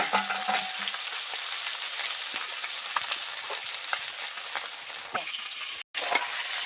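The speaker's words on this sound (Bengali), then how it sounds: "দেখুন কত সুন্দর ইজিভাবে ভাজা হচ্ছে" Small roe-filled mourala fish frying in oil in a pan, a steady close crackling sizzle with scattered pops and light stirring, briefly cut off near the end before resuming.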